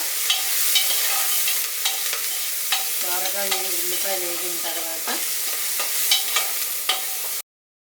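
Onions frying in a pan for a bottle gourd and tomato curry give a loud continuous sizzle. Repeated scrapes and clinks of stirring run through it, and a short harsher scraping passage falls in the middle.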